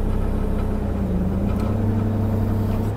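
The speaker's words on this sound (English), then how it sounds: "We have to figure out how the engine noise is gonna interfere with my voice." A steady engine hums and rumbles low and constant, close up, with no voices over it.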